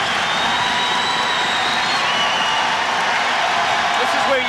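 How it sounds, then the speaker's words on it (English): A packed arena crowd roars during a 1989 Villanova men's college basketball home game against UConn, a loud, steady wall of cheering and shouting that holds unbroken and close for the whole stretch, with no clear voice standing out. "Crowd's back into it."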